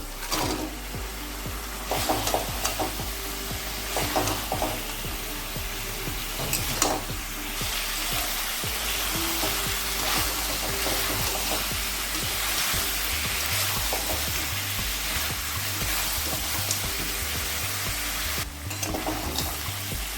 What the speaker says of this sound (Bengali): টক দইটা দিয়ে দু মিনিট কষিয়ে নিয়ে এবার আমি কাঁকড়াগুলো দিয়ে দেবো